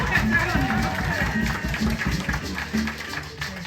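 In a Haitian church congregation, a brisk round of clapping and cheering rises under singing and talking voices, dense and fairly near throughout.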